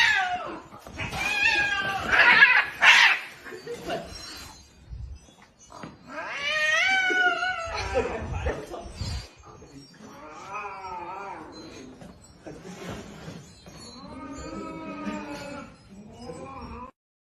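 A cat yowling at a new cat: a run of long, drawn-out wails and caterwauls in separate bursts with short pauses between them, close and loud, the pitch shifting through each cry.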